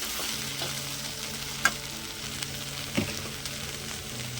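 Okra and green chilies stir-fry in a pan with a steady sizzle, broken by a couple of sharp scraping stirs from a utensil against the pan; no one speaks.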